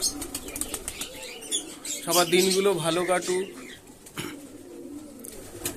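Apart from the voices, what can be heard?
pigeons flapping wings and cooing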